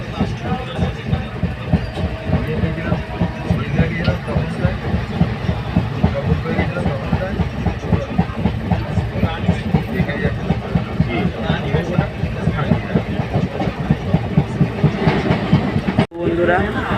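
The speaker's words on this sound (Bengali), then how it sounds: "তো ট্রেন এখন ছেড়ে দিয়েছে দুর্গাপুর থেকে" Howrah–Jaynagar Express (13185) running after leaving Durgapur, with steady loud rumble and rhythmic clickety-clack of wheels over rail joints throughout, briefly dipping near the end; a voice may be faintly present.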